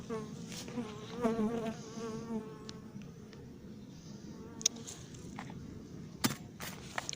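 Honeybees swarm and buzz around hives during an attempted hive visit in Montgeron, a loud, close, wavering drone with passing individual bees, plus a few faint footsteps or handling knocks.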